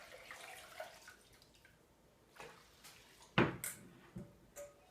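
Water poured into a pot of rinsed basmati rice gives soft splashes and drips, a few brief louder splashes scattered among quieter trickles, heard alone.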